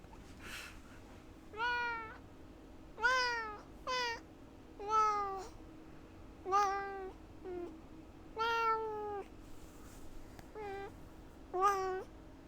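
A domestic cat meows repeatedly, about nine separate rising-and-falling calls spaced a second or so apart, close and clear over a faint steady background hum.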